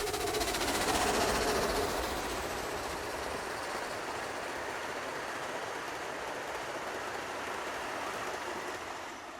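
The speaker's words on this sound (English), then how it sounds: "You get a good angle of the steam engine, especially the 801, when it's working up the hill" A steam locomotive train working uphill rumbles past with a dense, steady roar and hiss that swells at first then holds, continuous with no talking.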